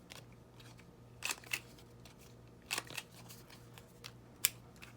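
A paper-crafting tool clips the corners off photos or card stock, giving a few crisp snipping crunches in short clusters, close up and quiet, with no talking.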